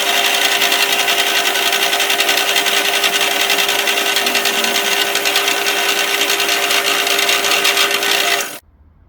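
Fly cutter machining metal on a milling machine, a continuous harsh whirring and scraping with a steady tone running underneath, loud and unbroken until it cuts off abruptly near the end.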